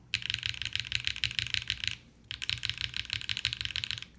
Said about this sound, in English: in terms of typing feel, right away I can tell this is a little bit stiffer